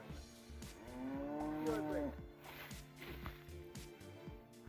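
A young heifer moos on a cattle farm in Westmoreland, one long rising-and-falling call near the microphone, with low farm background noise and a faint voice.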